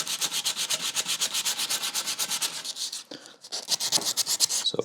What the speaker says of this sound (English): good sanding is key to a great finish.